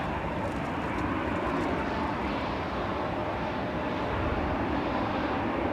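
An Aer Lingus regional ATR 72 from Dublin on approach to Manchester Airport produces a steady, broad engine drone at moderate level, unbroken and with no talk over it.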